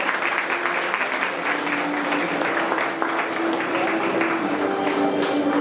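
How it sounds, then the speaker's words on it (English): An audience at a law college degree distribution ceremony gives sustained applause, a dense, steady wash of many hands clapping at an even loudness throughout, with no pauses. "Students, can we have a huge round of applause?"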